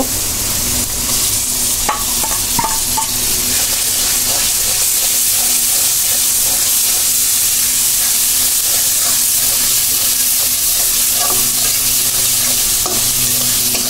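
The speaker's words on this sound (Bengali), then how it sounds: "এখন আমি মশলাগুলো দিয়ে দিব।" Spices hit browned onions in a hot pan, giving a loud, continuous, hissing sizzle close up, with occasional light stirring taps and no talk.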